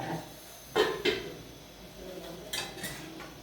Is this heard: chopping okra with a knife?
yes